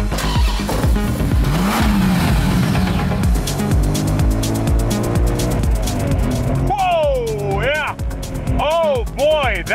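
A supercar engine revs hard under acceleration, its cam coming alive at high rpm and pulling toward redline, a loud, continuous drone with rising and falling pitch sweeps near the end, heard under someone talking throughout.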